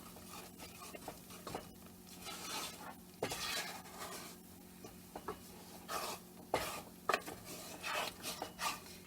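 Homemade air dry clay being stirred as it thickens in a pot over lowered heat, giving soft irregular scraping and rubbing strokes with occasional sharper knocks against the pot, close and fairly quiet, with no talking.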